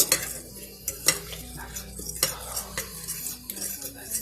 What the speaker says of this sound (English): I'm gonna grab a fork and just gently stir this all together so that way there's no lumps or clumps